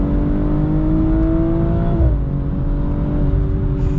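BMW M440i xDrive pulling hard under acceleration, its close, rising engine note dipping briefly at a gear change before climbing again, alone without talk.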